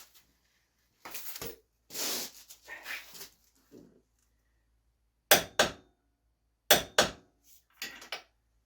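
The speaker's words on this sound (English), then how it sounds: "So I'm going to start torquing everything down to where it's supposed to be." A torque wrench tightening the rear knuckle bolts on a Maverick X3 UTV, heard as several sharp close clicks in pairs after a stretch of rustling and handling noise.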